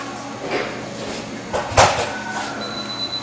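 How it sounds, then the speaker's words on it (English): A Ravaglioli G84 tire machine mounting a lubed tire onto a rim, with a low mechanical rumble and scraping and one heavy clunk midway, fairly loud and close. "We're going to mount a tire now, give you a demo of how our technician or operator is going to do this."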